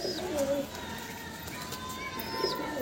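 A roller pigeon coos in a steady, moderately close call across the short stretch, with background voices murmuring throughout.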